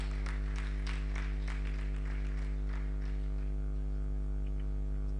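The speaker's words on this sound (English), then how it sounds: "Please, let's give her a resounding round of applause." Scattered applause from an audience at a live academia, industry and government engagement forum, uneven clapping that thins out over several seconds on top of a steady electrical hum.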